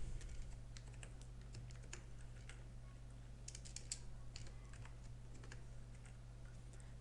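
Light, quick keystrokes tap on a computer keyboard in an irregular run over a low steady hum, faint and close.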